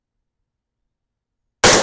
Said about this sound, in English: All right, last shot for this group.